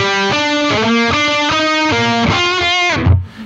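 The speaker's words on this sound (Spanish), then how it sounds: "el intro básicamente oprimimos la distorsión y va a sonar así" Distorted electric guitar plays a short church-song intro through a distortion pedal, sustained harmonic-rich chords and melody notes ringing out loud and alone before cutting off.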